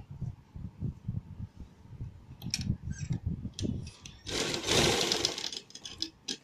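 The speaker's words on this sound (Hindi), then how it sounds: "रखने के बाद अब हम इसे यहाँ से स्टिच करना शुरू करेंगे।" A sewing machine stitches a coat collar, giving off quiet, rapid rhythmic pulses for a few seconds before brief cloth rustling and a louder burst of handling noise.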